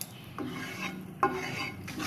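A spoon stirs milk in a large pot over full heat while condensed milk is made at home, giving soft scraping sweeps against the metal repeated about every half second, close and fairly quiet.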